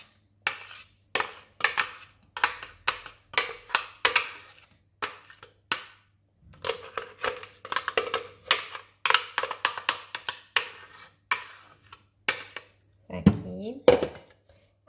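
Gluten-free, lactose-free apple cake batter made with cassava flour being stirred in a bowl, a close, steady series of rhythmic clacking and scraping strokes of the utensil against the bowl, with a brief voice near the end.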